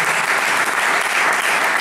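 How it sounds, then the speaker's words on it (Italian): Audience applause at a theatre festival in Civitavecchia, a dense, even wash of many hands clapping, loud and steady throughout with no voices over it. "Facciamo noi l'applauso a lui."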